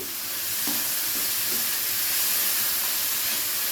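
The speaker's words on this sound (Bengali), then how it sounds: "এরপরে এই তেলের মধ্যে দিয়ে দিচ্ছি বিনসগুলো।" Beans sizzle in hot oil with a little salt for a fried-rice preparation, a dense, continuous close hiss with faint stirring scrapes throughout.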